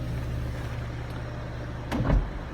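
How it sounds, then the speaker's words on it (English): A BMW 330d convertible's hardtop roof runs through its motorised cycle, a steady electric hum under faint background noise, ending with a brief mechanical clunk near the close. "I'll now give you a little demonstration of the roof in operation"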